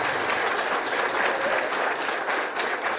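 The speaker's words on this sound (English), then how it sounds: "a big round of applause from our 12th graders to your parents" Twelfth graders at a school event fill the room with loud, sustained applause for their parents, a dense, even wash of clapping from many hands lasting the whole stretch.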